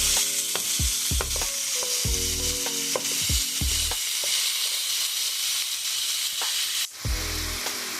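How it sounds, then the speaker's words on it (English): Ground beef and onion sizzle loudly in a skillet while a spatula breaks up the meat, clanking and scraping against the pan in irregular strokes over a continuous close hiss; no voices. "Now you want to break your ground beef down to make sure it's mixed well with your onion."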